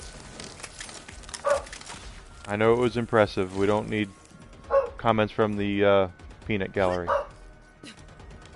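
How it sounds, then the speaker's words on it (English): A pet dog barks repeatedly in a room, several loud bursts of woofs in clusters over someone talking during a Borderlands 3 gaming session. "don't know what he's barking at"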